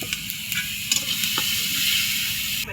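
Turmeric and red chili sautéing in oil in a pan, a loud close sizzle with sharp crackling bursts and stirring clatter throughout.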